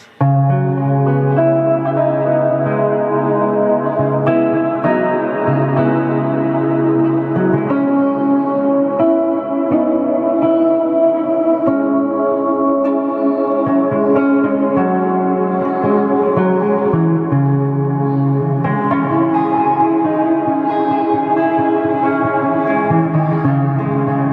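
An electric guitar through a Peavey Classic 30 amp with an upgraded speaker plays sustained chords and notes washed in deep, spacious reverb, with tails that blur each chord into the next.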